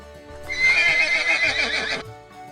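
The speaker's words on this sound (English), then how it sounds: "The horse says neigh," A single horse whinny rises and wavers for about a second and a half over light background music, loud and close, with faint hoof clip-clops underneath.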